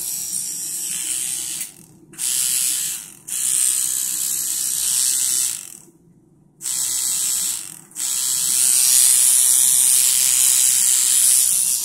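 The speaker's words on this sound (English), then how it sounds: "When it's set up, you'll notice it doesn't really clank a whole lot." A Centri Cobra tattoo machine runs with a steady, high, smooth buzz rather than a clank. It stops and restarts several times, leaving short silent gaps between runs.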